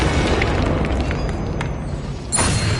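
A Bombarda explosion spell in Hogwarts Legacy goes off as a loud, close, deep boom that rumbles across the whole clip, followed by a brief bright burst near the end.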